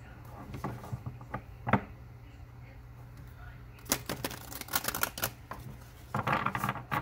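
A deck of cards being shuffled in a tarot-style reading, a few soft riffles early on, then a dense burst of crisp flutters and snaps close up, with quiet stretches between.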